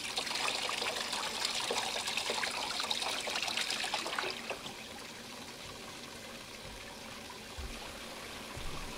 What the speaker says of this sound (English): now we have flow coming into grow tub number 2, and that's a pretty good flow of water right there